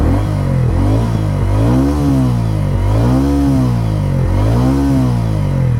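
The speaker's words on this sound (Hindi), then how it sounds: "So I just turn on the bike and हम एक बार एग्जॉस्ट सुनते हैं।" A TVS Ronin 225 motorcycle idles nearby with a bassy exhaust note, then is revved in repeated rising-and-falling bursts, about four throttle blips, loud and close with no talk.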